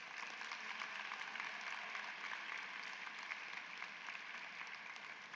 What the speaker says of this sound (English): Can we please get a huge round of applause for all of the committee members and their efforts?